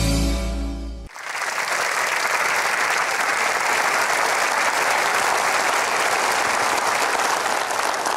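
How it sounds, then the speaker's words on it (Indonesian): A studio audience at a TV talk show breaks into loud, sustained applause, steady clapping from many hands filling the room after a brief moment of music. "Kita berikan aplaus sekali lagi untuk Esra Manurung."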